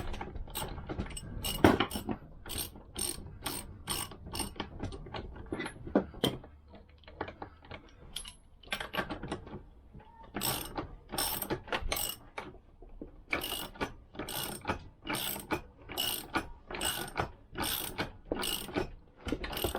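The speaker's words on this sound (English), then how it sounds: "So I'm just going to tighten that up again and then pull it the rest of the way." A puller is tightened to draw a part out of a Lambretta engine, giving bursts of sharp ratcheting clicks, close and crisp, in quick runs separated by short pauses.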